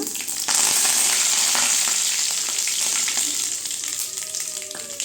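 Curry leaves dropped into hot oil while making anchovy dried fish thokku, sending up a sudden loud, steady sizzle and crackle that continues close up, with light stirring underneath.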